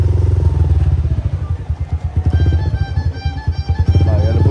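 Motorcycle engine running in reverse at a lake outing, a loud, uneven low rumble with clattering pulses that swell and dip across the clip, heard alone at close range.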